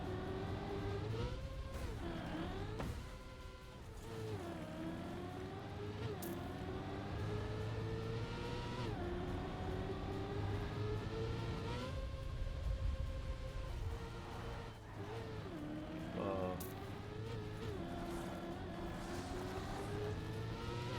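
A racing video game car engine revs and drones steadily for about twenty seconds, its pitch rising and falling with shifts and jumps, loud and continuous with no talk over it.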